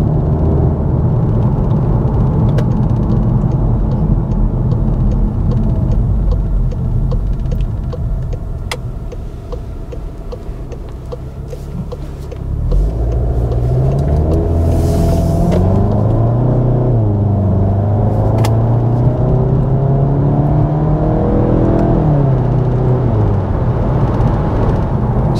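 A VW Golf GTI 7.5 engine and exhaust drone quietly and steadily from inside the moving car, a low continuous rumble with a brief dip and then rising revs and gear changes, with no talking.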